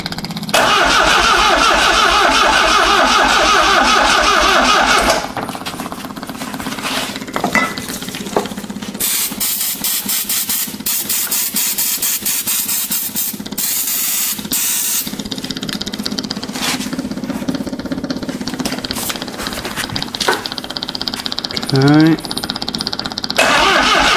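An old Triumph TR7 barn-find engine cranks and catches on its first start, then runs roughly and loudly at close range, with a voice speaking briefly over the running engine.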